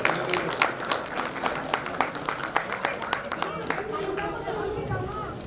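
A crowd at a wheelchair donation event claps for the Kiran Devi Foundation and the Ladli Noor Foundation. The clapping is loud and uneven, with chatter and voices murmuring through it.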